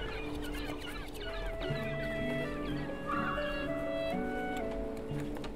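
Chickens cluck and cackle in the video game Broken Age, with several birds giving repeated short calls that overlap against a steady background of game music.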